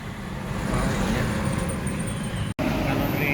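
ALS intercity bus Nopin 237 on the Medan–Bandung route arriving at the Palembang station, a continuous close engine and road rumble with traffic noise around it and a brief dropout near the end.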